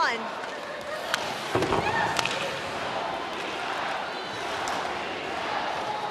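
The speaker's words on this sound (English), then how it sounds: "The crowd once again cheering on their favorite team." Hockey arena crowd at a women's game, Minnesota Frost at Boston Fleet, cheering on the home team: a continuous roaring wash of fan noise with a few sharp bangs, and a commentator's voice over it.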